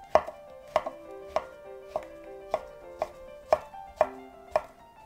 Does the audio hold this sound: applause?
no